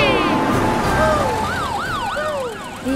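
Fire truck siren wailing loudly and close, its tone sweeping up and down in repeated cycles, with a faint voice underneath.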